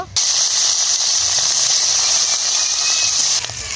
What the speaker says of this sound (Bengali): কড়া গরম হয়ে গেছে, কড়ার মধ্যে তেল দিয়ে দেবো। একে একে করে মাছগুলো ভেজে নেব।